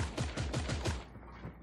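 A rapid burst of about six gunshots fires in quick rhythm in the PC battle royale game Creative Destruction, each crack short and punchy, then fading into quiet.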